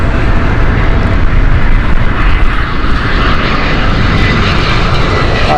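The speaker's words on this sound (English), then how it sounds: "Airbus A319 this." Airbus A319 on the Basel flight at Heathrow, a loud, continuous jet engine roar close by that holds steady throughout.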